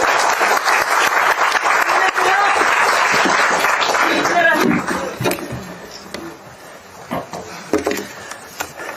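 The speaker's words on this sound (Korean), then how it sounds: "한번 큰 박수 한번 주십시오." Attendees at a Korean political gathering give a loud burst of applause for the floor leader Park Chan-dae; the clapping is dense at first, then thins and fades about halfway, leaving scattered claps and quieter room sound.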